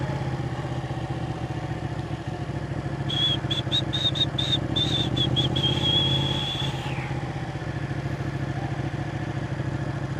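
A Ducati 899 Panigale motorcycle engine runs at low speed in city traffic, a steady mid-pitched drone with a louder, rougher stretch in the middle and a faint high whine, continuous throughout.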